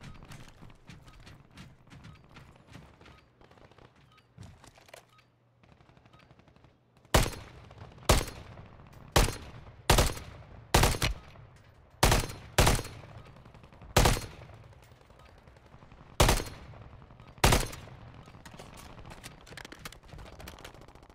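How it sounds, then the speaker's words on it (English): Bursts of gunfire in a shooter video game, about ten sharp loud shots in an uneven rhythm after a quieter rumbling stretch, each with a short decay, standing alone without talk. "Listen to all the pitter patter of glorious gunfire."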